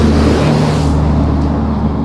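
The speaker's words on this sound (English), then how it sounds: "It's obviously vehicles going around me and going by me." Heavy road traffic rumbles past someone walking beside a street, a loud, steady low roar of engines with no talk.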